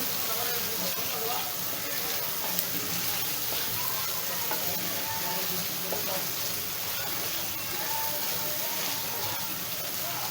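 Mustard masala for shorshe ilish frying in oil in a pan, giving a steady, even sizzling hiss that carries on without a break.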